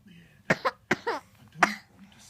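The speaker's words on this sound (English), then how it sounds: "Stop coughing all over me" A child coughs repeatedly at close range, a handful of short, harsh coughs in quick irregular bursts.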